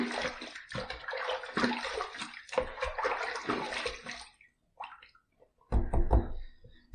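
Running water splashes and gurgles while a razor is rinsed during a shave, loud and close for several seconds, then stops, followed by a few knocks and a short burst of water.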